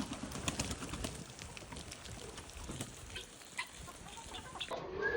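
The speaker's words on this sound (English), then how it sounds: "Let's see if the chickens want to come out in the rain." Chickens on a ranch cluck and call in the rain, a scattering of bird calls over steady rainfall hiss, moderately distant with no talk.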